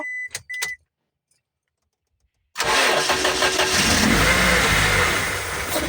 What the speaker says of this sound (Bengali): আমি ইঞ্জিনটি স্টার্ট দিয়ে সাউন্ড কোয়ালিটি কিছুটা হলেও আমি আপনাদেরকে শোনানোর চেষ্টা করব